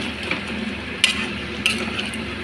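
A spoon scrapes and clinks through mutton curry in a pan with fried potatoes, pepper, salt and turmeric, with a few sharp scrapes standing out over a low, soft sizzle.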